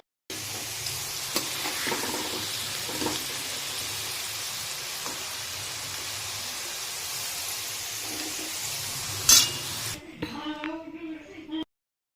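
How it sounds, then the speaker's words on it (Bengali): Oil sizzles and crackles steadily as potatoes fry, with occasional stirring scrapes; near the end the frying stops and a voice briefly speaks. "আলুটাকে দিয়ে ভালো করে ভেজে এটাকে আমাদেরকে তুলে রাখতে হবে"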